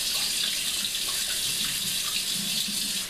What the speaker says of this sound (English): let it run right inside this thing, in the sink, while I'm bringing hot water up into here